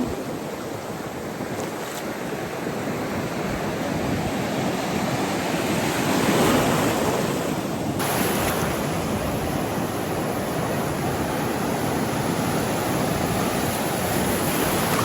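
Waves break and wash in steadily at a surfing beach in Magtabon, Puerto Princesa, a loud, continuous roar of surf mixed with wind rumble on the microphone, close by, with no talking.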